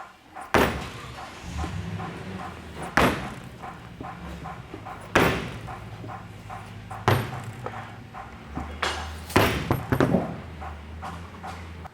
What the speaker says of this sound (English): I'm just going to take a mallet